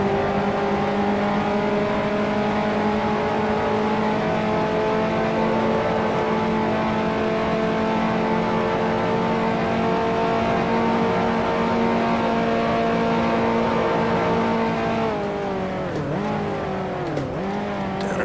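A race car's engine howls loudly and steadily at high revs, then near the end drops abruptly as the driver downshifts into second gear, with the revs blipping and wavering while the car slides wide through the Lacombe corner.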